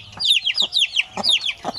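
Chickens cluck and chirp busily up close, with many overlapping calls, likely from chicks, and a few louder clucks at a steady, lively pace, loud and without talking.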